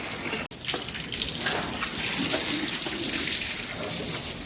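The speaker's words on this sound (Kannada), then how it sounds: "ಈ ಥರ ನೀರು ಪೈಪಲ್ಲಿ ನೀರು ಬಿಟ್ಕೊಂಡು ಕ್ಲೀನಾಗಿ ಎಲ್ಲ ವಾಶ್ ಮಾಡೋದು" Water pours steadily from a pipe to wash out a cattle shed, a continuous close gushing splash that runs the whole time after a brief dip at the start.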